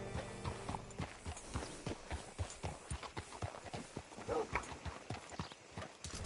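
Horse hooves clip-clop steadily and up close in the Red Dead Redemption 2 video game, a quick even rhythm of hoofbeats running the whole way, with a faint nicker in the background.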